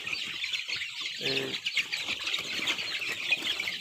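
Desi chicks on a poultry farm keep up a dense, continuous high-pitched chirping, with a few low clucks in the middle.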